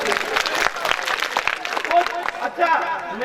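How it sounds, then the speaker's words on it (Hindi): Applause and clapping from a live audience at a Hindi comic poetry performance, a dense crackle of many hands, moderately loud, with some crowd murmur mixed in. "अच्छा लग रहा है, ताली बजाओ।"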